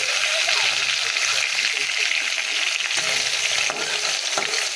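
Fish sizzles steadily in hot oil in a pan while a spatula stirs it, with the dense frying hiss continuing close and loud throughout, and a faint voice occasionally audible beneath.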